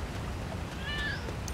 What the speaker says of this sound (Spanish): lo primero que vemos es un gatete muy bonito